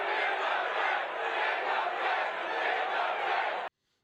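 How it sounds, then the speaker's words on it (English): A large crowd at a Libertarian Party convention chants and roars in a loud, continuous wall of voices that cuts off abruptly near the end. "the Libertarian crowd would erupt in chants of In the Fed"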